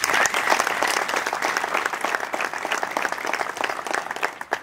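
An audience applauds at a church fundraising program, a loud, close, continuous burst of many hands clapping that holds steady for several seconds before thinning slightly at the end.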